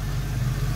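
A 1990 Ford Mustang GT V8 idling steadily nearby, a continuous low rumble with no voices over it.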